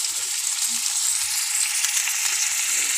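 Chicken pieces fry in a pan as the first step of a tinola, a loud, steady, hissing sizzle that fills the whole moment, with faint low clatter underneath and no voices.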